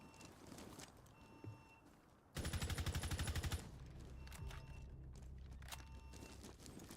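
Video game gunfire bursts out in a rapid rattling volley lasting about a second, loud against a busy game soundtrack with scattered thuds before and after.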